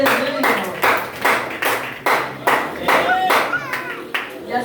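A church congregation claps for Jesus, bursts of hand claps rising and falling in waves with a voice talking over them throughout.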